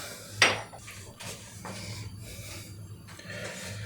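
A frying pan set onto a stove to heat in a home kitchen: one sharp metallic clank of the pan landing, followed by a few softer knocks and low background hum.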